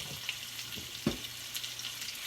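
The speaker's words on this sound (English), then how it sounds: "we add that to the oil, and then we just want to stir fry that up" General Tao ingredients sizzle in hot oil as they are stir fried, a quiet continuous frying hiss with a couple of soft knocks from stirring.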